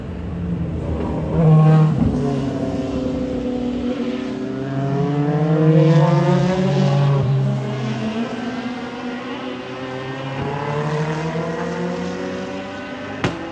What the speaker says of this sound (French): c'est là où on entend véritablement le son des moteurs en action